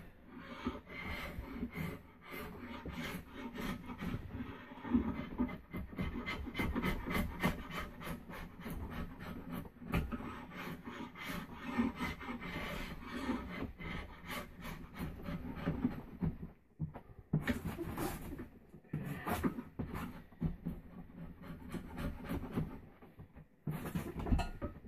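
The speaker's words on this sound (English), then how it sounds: "I end up rasping him most of the way down." A hand rasp shapes a yew longbow stave into a traditional English longbow with a semi-oval limb section. Steady, close rasping strokes run almost without pause, with a few short breaks near the end.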